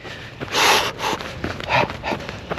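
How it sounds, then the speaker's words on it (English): Dogs out with people near a bridge, giving a few close, loud snorts and panting huffs in short bursts, with no talk. "There's so many people with dogs out right now, it's crazy."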